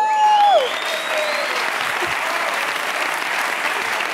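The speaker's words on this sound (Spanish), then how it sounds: "Aquí está, un aplauso." Studio audience applause on a late-night talk show, a steady dense wash of clapping following a brief musical sting, loud and sustained throughout.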